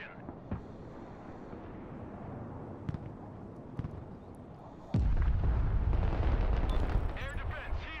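Artillery in the Broken Arrow war game, scattered distant thumps and cracks followed by one loud close blast whose heavy rumble rolls on to the end.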